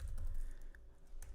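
A computer keyboard is typed on in quick, close, soft clicks and taps, with no talk.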